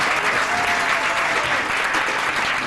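A roomful of people applauds warmly, many hands clapping in a dense, even roar that holds steady at full strength for nearly three seconds.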